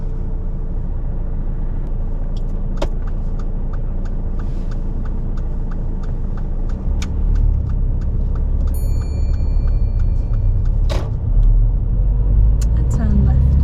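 A car pulls away from a standstill on a driving test, its engine rumble steady and close inside the cabin, then growing louder as it accelerates, with brief talk from the people in the car.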